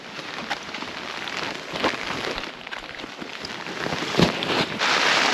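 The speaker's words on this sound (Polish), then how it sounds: "Patrzcie to, jak zaczęło lać, wieje." Steady heavy rain hisses across the whole clip in East Timor, with gusts of wind buffeting the microphone and occasional louder spatters.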